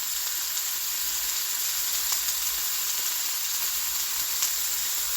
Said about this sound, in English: Now we got some sizzle for your fizzle.